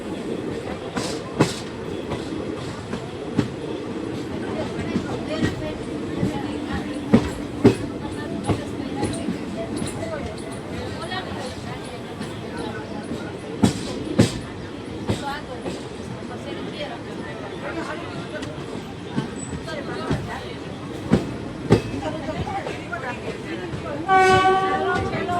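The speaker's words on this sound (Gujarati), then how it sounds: "જામજોધપુરમાં ટ્રેન એન્ટર થાય છે" Passenger train 19571 on the Jetalsar–Porbandar line rolls into Jamjodhpur station, a steady rumble with clicking wheels and a few sharp knocks, heard from onboard, with a voice talking over it.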